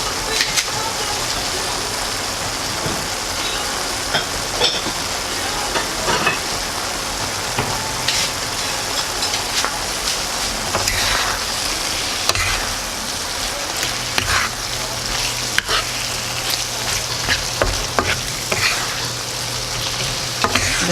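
Scrambled tofu with melting cheese fries in a pan, a steady crackling sizzle with repeated scraping strokes of a utensil stirring it, close and even throughout, with no talk.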